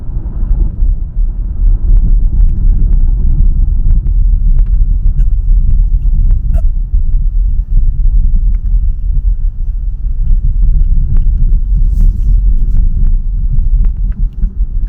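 A Kia EV6 electric car drives along a road, heard from inside the cabin as a steady low rumble of tyres and road noise, continuous and fairly loud, with no talking.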